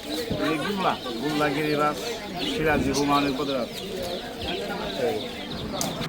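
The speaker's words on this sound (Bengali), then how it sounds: "কবুতর বা পায়রা" Pigeons coo in a busy pet pigeon market at Savar Nama Bazar, with their low throaty calls repeating and overlapping beneath nearby people talking.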